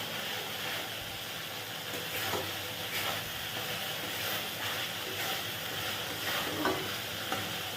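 Spice masala for tel koi fish curry, made with tomato, sour yogurt and a little sugar, sizzles steadily in a pan of oil while a spoon scrapes and stirs in repeated strokes, close and continuous with no talking.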